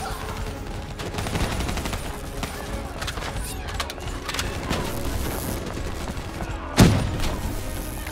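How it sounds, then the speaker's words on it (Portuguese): A grenade explodes in Black Ops 3 amid ongoing gunfire and combat noise, one sharp, loud blast standing out near the end over a busy background of scattered shots and rumble. "Granada, não vi!"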